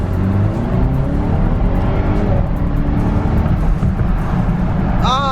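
An SUV's engine hums and shifts pitch as it drives along a road on a test strip, with steady tire and road noise and a brief rising whine at the end.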